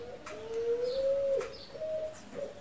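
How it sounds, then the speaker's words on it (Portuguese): An unfamiliar bird singing outdoors, a soft tonal cooing call of two or three drawn-out notes, fairly faint and alone against quiet background noise. "Alguém sabe que pássaro é esse que canta assim, estranho?"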